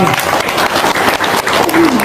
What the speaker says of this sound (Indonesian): Sip, tepuk tangan dong